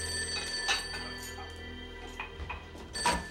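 A telephone rings in a 1978 setting, with several short bursts of bell-like ringing spaced apart over a low, steady background tone.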